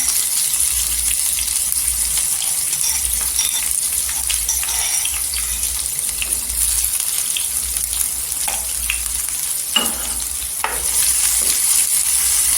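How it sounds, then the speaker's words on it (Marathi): Crushed green chili and garlic fry in a pan, giving a loud, continuous sizzle with a few scattered spatula clicks and scrapes, and no voices. "इथे आहे ना मिरची आणि लसूण टेचली आहे ती टाकायची"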